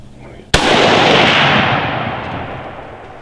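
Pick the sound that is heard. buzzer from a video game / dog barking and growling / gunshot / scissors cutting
gunshot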